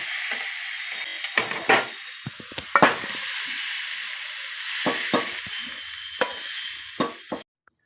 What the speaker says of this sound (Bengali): রসুন কালা জিরে ফোড়ন দিয়ে সর্ষে শাক ভাজা